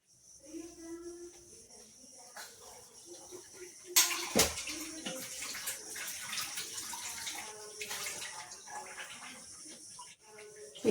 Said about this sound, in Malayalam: പിന്നെ ഇത് കഴുകിയിട്ട് കുറച്ച് വെള്ളം കൂടി നമുക്ക് ഒഴിച്ചു കൊടുക്കാം